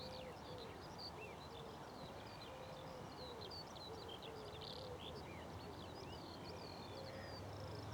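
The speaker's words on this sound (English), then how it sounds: "more importantly in the background is a skylark" Continuous high, warbling skylark song drifts from a distance over a steady rush of wind and background noise, on a spring countryside walk near Winchester.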